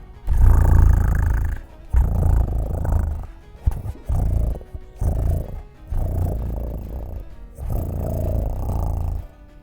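A pet cat purring close to the microphone, a low rumbling purr in long pulses with brief pauses between breaths, loud and alone.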